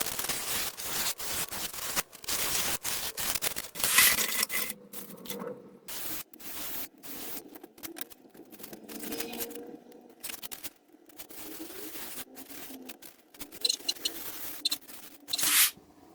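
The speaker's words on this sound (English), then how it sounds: "cut out all of my pieces out of 10mm foam" Pieces of 10mm foam board being cut for an RC warbird airplane, with bursts of scratchy rasping and crackling strokes separated by short pauses, close and fairly loud.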